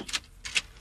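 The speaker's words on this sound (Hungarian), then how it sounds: "Gépelnek." Typing on a studio radio show, two brief crisp key clacks about half a second apart, faint and isolated with no talking.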